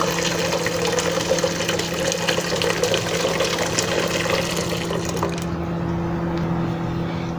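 Water rushes and splashes loudly in a cooking pot as onions go into boiling water, a steady close churning that quiets noticeably partway through.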